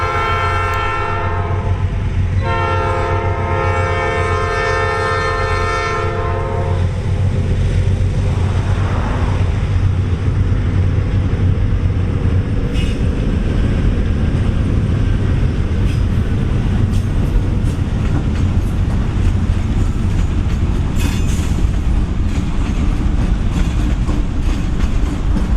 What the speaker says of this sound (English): I heard the faint sound of an engine and then the horn